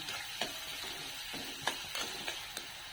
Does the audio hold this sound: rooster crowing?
no